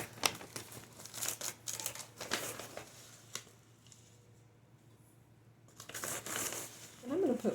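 A plastic bag is handled while stevia is measured out for no-cook refrigerator pickles, giving bursts of close crinkling and rustling that fall quiet midway and then pick up again, with a voice briefly at the end.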